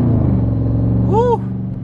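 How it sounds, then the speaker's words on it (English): A Dodge Charger Daytona V8 rumbling steadily from inside the car while driving, a loud continuous low engine drone with a brief whistling tone over it near the end. "Don't y'all love the sound of that V8, man?"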